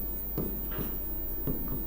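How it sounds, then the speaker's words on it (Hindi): A word is written by hand, with the pen or chalk making soft close scratching strokes in short bursts against a faint steady background hum, and nobody speaks. "इसके लिए एक शब्द लिखेंगे"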